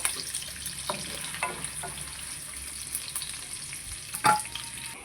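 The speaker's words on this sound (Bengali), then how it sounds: "মাঝারি সাইজে দুটো পেঁয়াজ কুচিয়ে নিয়েছি বেরেস্তা বানানোর জন্য এটাকে এবার এটাকে এবার ভালো করে মেরে ফেলে পুরো বেরেস্তা করে নেবো" Chopped onions fry in hot oil for beresta, a steady close sizzle with a few louder crackles and stirring scrapes, no voices.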